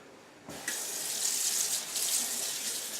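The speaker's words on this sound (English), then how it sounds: "We want to wet it with cool water" Cool tap water gushing into a sink to soak fabric, starting abruptly and running as a steady bright hiss and splash, close and without speech.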